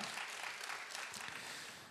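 A crowd applauding steadily at a church Friday prayer service, many hands clapping together in a dense, continuous burst that slowly tapers off.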